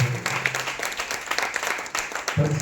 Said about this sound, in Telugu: చప్పట్లు కొడతా దేవుని నామమున